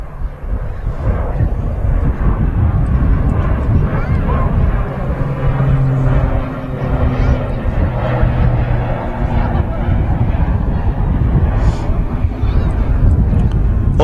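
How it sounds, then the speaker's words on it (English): Aer Lingus Regional ATR 72 on the runway at Manchester Airport, a steady broad engine roar with wind buffeting the microphone, continuous and fairly loud throughout. "this on the runway now is the Aer Lingus Regional ATR"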